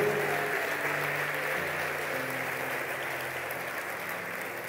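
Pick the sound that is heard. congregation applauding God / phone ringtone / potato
congregation applauding God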